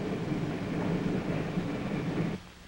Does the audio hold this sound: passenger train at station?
yes